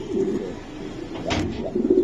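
A racing pigeon coos close by, a few soft, low, throaty calls in quick succession over about two seconds, clear and alone.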